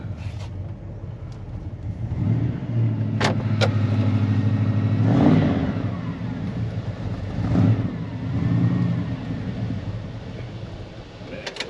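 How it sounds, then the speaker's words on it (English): A Dodge D100 pickup engine with a junk carburetor runs and revs, rising and falling in a few throttle swells with poor off-idle response, close and steady, with some talk in the background. "Off idle throttle response is non-existent. It runs good, but the carburetor is just junk."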